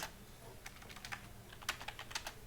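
Quiet, close typing on a computer keyboard while entering Ruby code, a quick irregular patter of key clicks with no talking.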